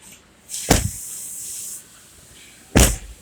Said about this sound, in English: Shut the doors firmly.